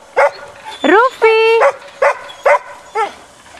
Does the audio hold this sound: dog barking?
yes